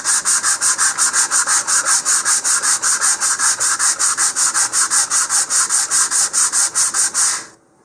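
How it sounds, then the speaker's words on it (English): An 18 mm rocket motor wrapped in 150-grit sandpaper is rubbed back and forth along the fin fillets of a LOC Precision Hi-Tech high-power rocket kit, giving a steady, close rasping stroke about every quarter second for seven seconds. "I've wrapped that in 150 grit sandpaper, and now I'm just going to use that to sand into the fillets here."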